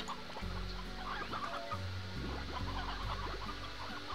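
Chickens cluck in Slime Rancher near a row of coops, soft repeated clucks over a steady low game hum and electronic tones, with no talking.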